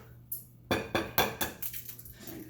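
Two eggs going into pumpkin cheesecake batter, a series of close clinks and taps of shell and utensil against a bowl, several sharp knocks spaced a fraction of a second apart.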